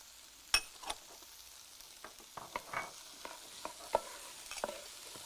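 Vegetables including celery and beans cook in a pan with a faint, quiet sizzle and scattered light taps and clicks from stirring.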